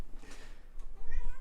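A house cat meows close by, one drawn-out cry followed by a shorter rising meow, loud and alone with no talking over it.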